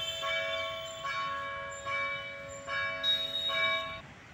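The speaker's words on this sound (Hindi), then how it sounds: "और यहाँ चर्च की घंटी बज रही है।" A church bell rings in repeated, resonant strokes, each chime hanging and overlapping the next, steady and fairly clear with no voices.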